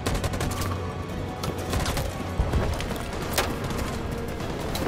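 Gunfire from a firefight in the video game Detroit: Become Human cracks in dense, rapid volleys of overlapping shots, loud and close throughout, with a few sharper bursts standing out.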